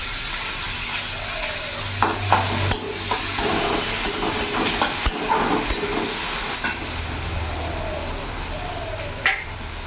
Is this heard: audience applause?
no